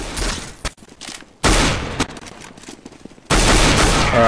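Gunfire from the video game CSGO comes in loud automatic bursts: a sustained volley, a brief lull, another long burst, then a final heavy stretch of rapid shots.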